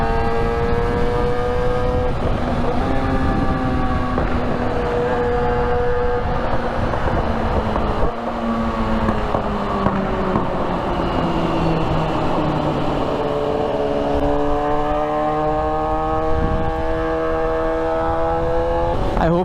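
A car's exhaust booms and roars through a Dubai road tunnel, loud and sustained, with the engine note rising and falling in repeated sweeps as it accelerates, echoing throughout.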